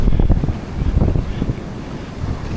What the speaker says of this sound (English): and the surf that's coming in